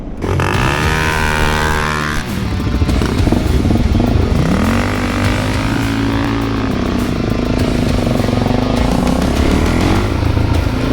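A Suzuki DRZ400 dirt bike engine cranks, catches and settles into a loud, close, lumpy single-cylinder idle with a few blips of throttle.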